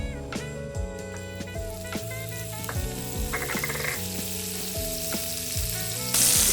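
Butter melting in a pan before green beans go in, giving a soft continuous sizzle at close range, mixed with rhythmic tonal background music and no talking.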